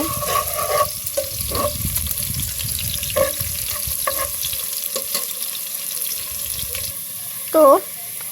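Onions fry in oil for a village-style biryani, making a steady sizzle and stirring sounds, with water running intermittently and a brief louder clatter near the end.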